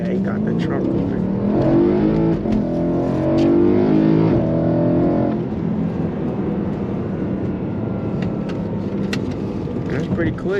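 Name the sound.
BMW M3 sports car engine accelerating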